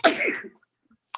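A single sharp sneeze bursts out close by during a public safety committee meeting, followed by silence and a brief faint sound at the end.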